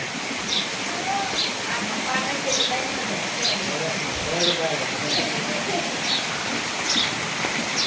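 Heavy rain pours steadily over a village yard with a slowly turning windmill nearby, a dense even hiss filling the whole stretch with faint bird chirps repeating above it.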